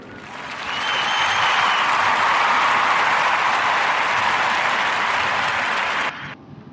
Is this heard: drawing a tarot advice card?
no